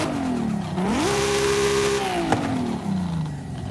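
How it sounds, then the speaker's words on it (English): A Toyota Supra engine in Forza Horizon 5 revs hard, holds at a high pitch, then drops back with a sharp pop as it winds down, loud and close. "you guys can listen to the engine, the difference between them"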